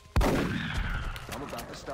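A shotgun blast in the XCOM Enemy Within video game booms with a sudden loud, heavy crack and a long rumbling decay under layered game effects, with a brief burst of gunfire-like ticks toward the end.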